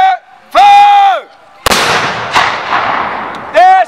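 A bronze artillery cannon fires once at a demonstration, a sudden sharp blast followed by a long rumbling decay, with voices shouting commands before and after.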